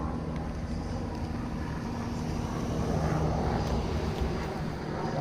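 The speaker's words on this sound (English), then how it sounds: "Here comes the helicopter." Police helicopter passing overhead during a homeless sweep in San Diego, a steady broadband engine and rotor drone that swells slightly midway, heard outdoors at moderate distance with no talk.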